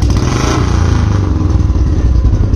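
Close and loud, a Royal Enfield Bullet 350 single-cylinder motorcycle revs with throttle through a bend pipe exhaust, its rapid thumping beat continuous and slightly rising, no voices over it.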